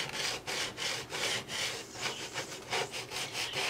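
A plastic card scrapes back and forth across a sticky Cricut cutting mat to lift dirt and residue, making about eight quick, close rasping strokes in a steady rhythm.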